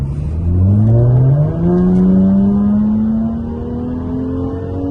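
A Jaguar F-Type sports car accelerates hard at a summer car meet, its engine note climbing steadily through the gears, loud and close for the whole stretch with no talking.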